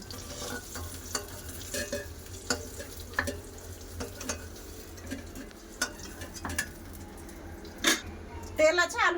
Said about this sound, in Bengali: ভালো করে ভেজে নেবো ডিমগুলো লাল করে ভেজে নিয়েছি